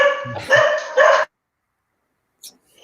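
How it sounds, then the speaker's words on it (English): A sick dog, now recovered, barks in a backyard: two or three loud, close barks in quick succession over about a second, followed by silence and a faint short sound near the end. "my so sick dog that was almost dead like a week ago is now running around in the backyard and barking here"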